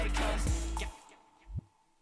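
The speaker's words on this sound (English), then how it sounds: "A reverse kick that I had from another kind of library." A short reversed kick drum swells upward into a sudden cutoff, followed by a second quick low thump, set against faint background noise.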